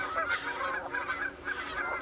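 Geese honk repeatedly outdoors, a flock of overlapping nasal calls in quick irregular bursts, fairly distant and moderately faint against a low background hum.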